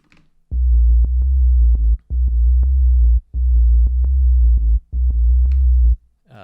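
A deep synth bass, made to imitate a distorted bass guitar, plays a repeating pattern of sustained notes with short gaps, its gritty tone reinforced by a smooth low sine layer.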